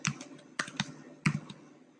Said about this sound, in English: let's type it down here